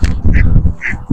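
Ducks at a pond in Burnaby give loud, close, harsh quacks in a few short bursts separated by brief pauses.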